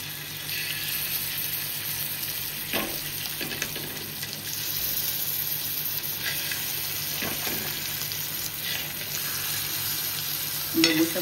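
Fish frying in a pan gives a constant loud sizzle throughout, broken by a few scraping clinks as the pieces are stirred and flipped over to cook the other side.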